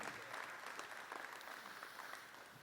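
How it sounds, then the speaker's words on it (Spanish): Congregation applauding at a church service, a steady wash of clapping from many hands that fills the space from start to finish with no voices over it. "Dale un fuerte aplauso si estás de acuerdo con esto que hemos compartido"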